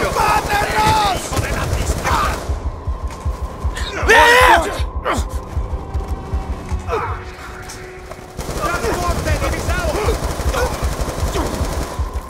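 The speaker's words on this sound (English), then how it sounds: "Gunshots came from inside." Rapid automatic gunfire crackles in dense bursts in the Black Ops 2 video game, with groans and shouted voices breaking in between volleys, loud and close throughout.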